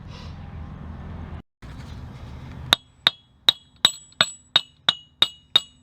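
A hammer gives about nine light, evenly spaced metallic taps, close and sharp, knocking a Chevy Malibu half shaft out of the steering knuckle, after a stretch of low shop rumble.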